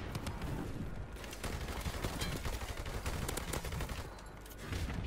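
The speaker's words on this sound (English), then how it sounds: "this gun is really nice" A Lynx CQ300 rifle fires in a first-person shooter, with rapid bursts of fairly quiet gunshots rattling off almost continuously with short gaps between volleys.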